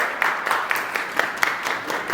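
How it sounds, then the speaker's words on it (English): A pageant audience claps for the contestants at a grand finale, with a short burst of scattered, moderately close handclaps. "please give everybody one more round of applause"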